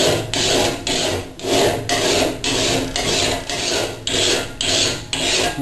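A file is pushed in even back-and-forth strokes across a machete edge held at about 45 degrees, about a dozen loud, close rasping passes in a steady rhythm, with no talk.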